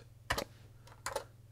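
Two short clusters of keystrokes on a Model 100 computer keyboard while entering a command, quiet and close, with a faint steady hum underneath.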